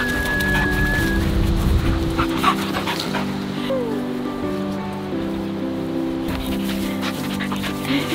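A puppy playing outdoors near a brick pizza oven build, panting and scuffling close by under a steady wash of background noise, with faint tonal sounds and no clear talking.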